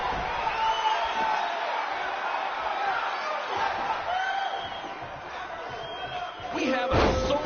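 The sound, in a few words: sold-out wrestling crowd cheering at BCW event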